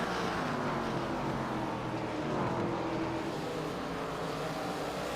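DC Designs LMSC Series race cars exit turn 4 at Slinger Speedway, a steady, loud engine roar from a pack of cars sweeping by with rising and falling pitch as they pass.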